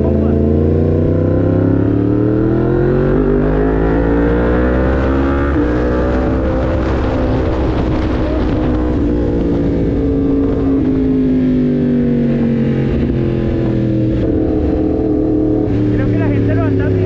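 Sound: Yamaha MT-10 motorcycle engine revving

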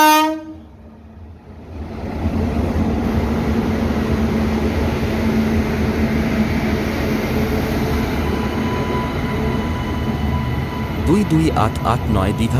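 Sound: Digha Puri Samudrakanya Express train shunting to platform

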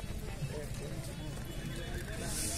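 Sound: horses at a fair

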